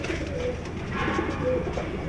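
An Indian Pulsar pigeon coos softly nearby, with a low murmuring call and a couple of brief higher notes over a steady background hum.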